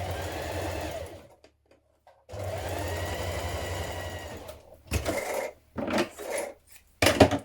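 Two bursts of a sewing machine back tacking a seam on an unlined winter coat, each a steady run of about a second or two, followed by short handling rustles and thumps.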